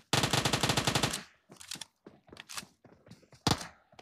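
Automatic gunfire in the BGMI (PUBG Mobile) game opens with a rapid, loud burst, then breaks into scattered single shots and short volleys.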